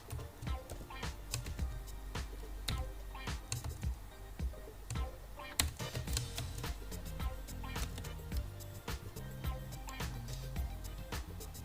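Typing on a computer keyboard while editing HTML code: rapid, uneven clicks and taps of keys tap on continuously at close range, with faint room noise beneath.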